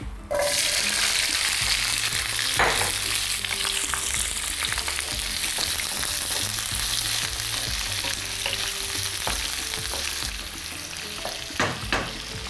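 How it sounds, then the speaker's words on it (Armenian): Sweet bell pepper frying in a pan for a pasta and vegetable casserole, with a steady loud sizzle running throughout, broken by occasional soft clicks and scrapes as the pieces are stirred. "Եվ տապակում ենք պղպեղը։"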